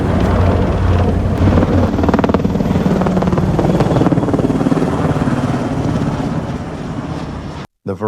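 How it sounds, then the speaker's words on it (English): A helicopter flies overhead at the Rotterdam World Port Days harbor festival, a loud, close, continuous rotor thrum with wind buffeting the microphone, cutting off abruptly at the end. "Helicopters flying overhead."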